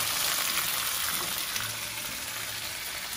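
Sausage and peppers sizzle loudly in a pan as they are mixed, a close, dense, steady frying hiss with faint low scraping underneath and no voices.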